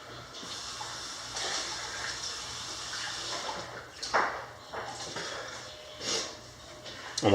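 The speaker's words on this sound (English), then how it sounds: "All right, I'm gonna rinse this out." Running water rinses out a coffee cup after tasting a coffee pod, a steady close splash and gush with a few louder surges toward the end.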